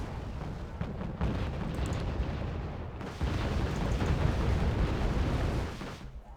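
Artillery barrages pound away in the war game Wargame: Red Dragon, a dense rumble of heavy booms and crashing blasts that swells in two long waves with no talk over it.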